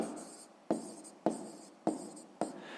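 Pen on paper in a sixth-grade math exercise book, five quick scratchy strokes landing at an even rhythm, close and fairly quiet with no voices.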